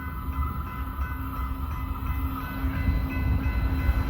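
A fast train approaches the 2nd Street railroad crossing in Monument, Colorado, its deep rumble with sustained tonal hum growing gradually louder as it nears.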